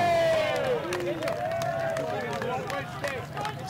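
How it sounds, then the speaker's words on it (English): A loud rugby crowd at a Cyprus versus Bahrain match, a steady roar of cheering and clapping with scattered shouts and whistles, under a commentator's voice. "I don't know if you can hear the crowd, but they're loud."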